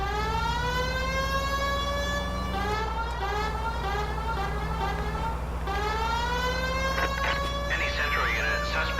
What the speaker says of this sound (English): I have the siren on